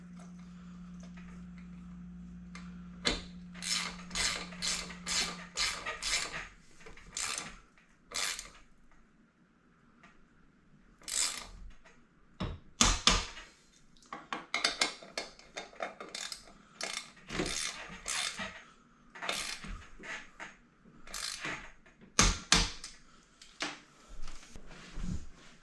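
Bicycle crank being fitted and tightened with Allen keys on a 2021 Mongoose Ardor X1, giving bursts of metallic ratcheting clicks and mechanical rattles in irregular clusters, close and moderately loud, with quiet pauses between and no talking.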